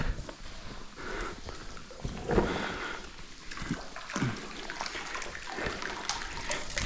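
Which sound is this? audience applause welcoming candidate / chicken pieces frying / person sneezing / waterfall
waterfall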